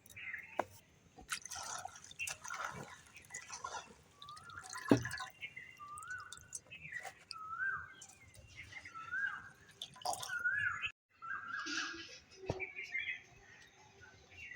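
Spinach leaves being washed in water, with quiet, close splashes and drips in scattered bursts and soft handling noises between them.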